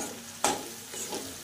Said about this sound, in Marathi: हे जिन्नस छानपैकी असे फ्राय करून घ्यायचे आहे